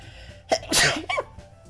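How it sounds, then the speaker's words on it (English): A single loud, close sneeze during a Doki Literature Club playthrough, a sharp inhaled build-up bursting into a harsh nasal blast, with a smaller trailing burst after it. "Oh, hold on, I gotta sneeze."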